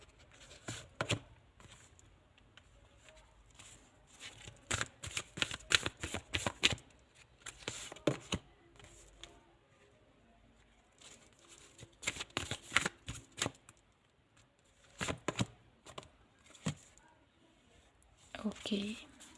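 Tarot cards being shuffled in repeated bursts of crisp riffling and flapping, close and fairly quiet, with short pauses between rounds and faint low talk underneath.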